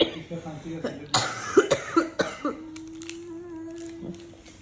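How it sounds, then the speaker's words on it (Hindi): A girl coughs in a quick series of sharp, harsh coughs close by, followed by a short pause and then a voice speaking. "ये खांसी वाली एक लड़की बेचारी यहाँ पे"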